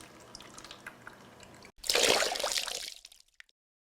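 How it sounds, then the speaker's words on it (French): Strawberry-flavoured milk pours through a sieve in a short liquid splash lasting about a second after a quiet pause, then tails off into silence. "Je vais verser mon lait aromatisé à la fraise"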